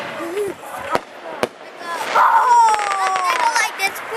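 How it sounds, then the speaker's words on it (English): Fireworks bursting at a night festival display, with loud booms and crackling among an excited crowd, children and adults talking and exclaiming over the blasts. "Fireworks. Fireworks."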